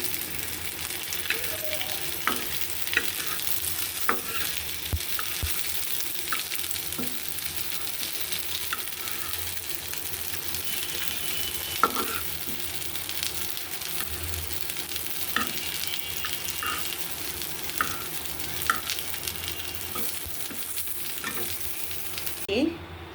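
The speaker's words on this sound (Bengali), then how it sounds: "এই যে দেখেন পটলটাকে আমি ভেজে নিচ্ছি সুন্দর করে" Pointed gourd (potol) slices fry in hot oil in a pan, a steady close sizzle broken by occasional scraping stirs and clicks, with no talking.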